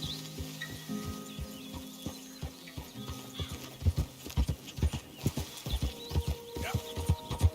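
Horse hooves clip-clop in a steady trotting rhythm in Red Dead Redemption 2, growing louder and quicker, over a background of faint ambient music and hiss.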